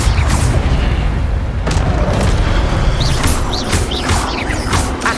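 A fire spell cast in the Hogwarts Legacy video game, heard as a loud, continuous roaring burst with booming low rumble and a few sharp crackling accents over about five seconds, with no speech.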